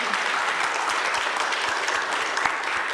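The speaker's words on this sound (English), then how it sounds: "if we could give them a round of applause" An audience at a Bi Pride UK stage event claps for a panel, a short burst of steady, even applause at moderate volume with no voices over it.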